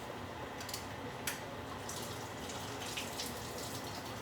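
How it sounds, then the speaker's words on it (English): Water from a can of green pigeon peas drained into a sink in a home kitchen, a steady soft hiss of running liquid with a few faint splashes, fairly quiet and continuous throughout. "We're gonna drain that water inside of it."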